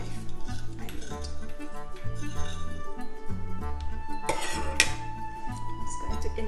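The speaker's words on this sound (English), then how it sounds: "I'm just going to remove it with a hot kitchen knife" A butter knife clinks and scrapes against a dish while loosening a coconut leche flan, several close metallic taps and chinks over background music.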